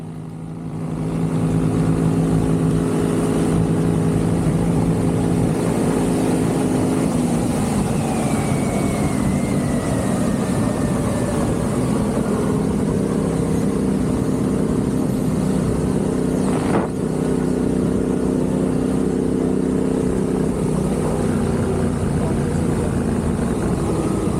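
Motorcycle ridden flat out over sandy, stony terrain near Lake Iriki in Morocco, its engine a loud steady drone for the whole stretch, with continuous rumble and rushing noise close to the rider.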